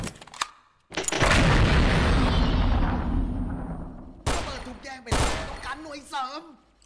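Bursts of AUG rifle fire in the online shooter XSHOT, one long sustained volley followed by shorter loud bursts, close and heavy, with a voice talking over parts of it.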